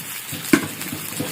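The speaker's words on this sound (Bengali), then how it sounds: "আলুটাকে পুরো লাল করে ভেজে নিতে হবে।" New potatoes frying red in a pan for Kashmiri aloo dum, a steady soft sizzle with one sharp stirring clink near the middle, close and brief.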